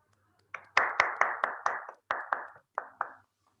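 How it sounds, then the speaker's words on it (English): A handful of people clapping over an online meeting connection for a general evaluator at a Toastmasters club meeting, about nine distinct claps in an uneven rhythm, near and fairly soft, no voices. "let's keep the applause going for our wonderful general evaluator"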